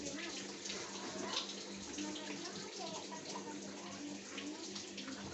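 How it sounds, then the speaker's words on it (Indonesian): Water from soaked rice being poured off slowly for traditional bamboo rice (nasi jaha), a steady close splashing flow running the whole time with no talk. "Buang airnya pelan-pelan supaya"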